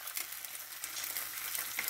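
Bologna frying in a pan, a soft steady sizzle and crackle of fat, close but fairly quiet, with no talk over it.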